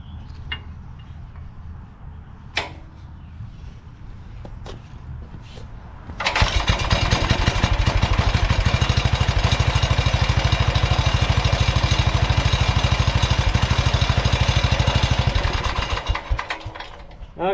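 A Wisconsin engine cranks with a few faint knocks, then fires and runs loud and steady with the choke almost shut, a dense rapid chugging that holds for about ten seconds before starting to fade.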